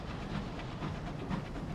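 A derelict train locomotive in the game Sunless Skies gives off a faint, steady rumble with soft hiss and rhythmic clatter, heard alone at low level.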